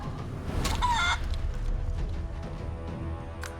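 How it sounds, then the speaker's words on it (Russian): A chicken in the video game Divinity: Original Sin 2 gives a short, sharp squawking cluck near the start, over a steady low game backdrop, followed by quieter ambient rumble. "Например, курица."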